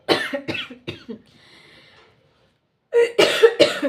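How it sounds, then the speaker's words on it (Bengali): Several sharp coughs in quick bursts near the mic, a short pause with faint background hum, then another cluster of loud, harsh coughs. "সরি, কাশি হচ্ছে"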